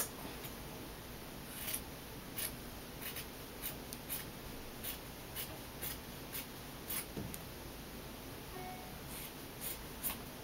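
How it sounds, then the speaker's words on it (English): Scissors cut fabric for a no-sew DIY beanie in a series of short, crisp snips spaced through a quiet room, fairly close and with no talk. "I like these scissors. They give you a clean cut."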